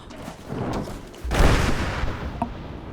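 A deep booming video game explosion in Rise of the Tomb Raider erupts after a second of rumbling, followed by crackling debris and a sharp small pop near the end.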